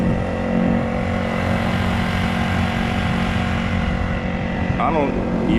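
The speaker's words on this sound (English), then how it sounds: "this is only on click 1 of the engine on smooth water" KB Version 3 motor pushing a Nucanoe Pursuit kayak at its lowest speed setting on smooth water in a no-wake zone, a steady close engine drone with rushing water, and someone talking over it.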